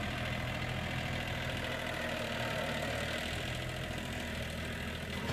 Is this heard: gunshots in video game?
no